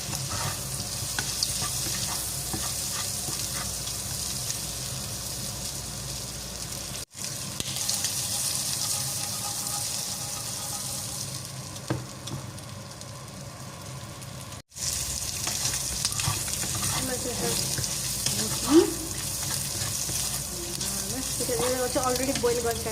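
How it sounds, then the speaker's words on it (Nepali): Chicken strips frying in a pan with ginger, garlic and cumin, a steady loud sizzle with stirring scrapes throughout, briefly cut twice, with faint voices in the background. "भुट्दै जाने भुटिँदै लाइक भुटन भुटेको जस्तो मजाले भुट्ने।"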